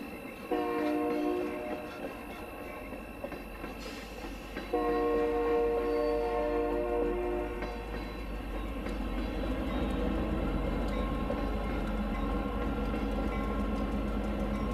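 A Santa Fe train pulling into Silverdale station in Arizona sounds its horn in two long, loud chords over a steady rolling rumble of railcars, close by and with no one speaking.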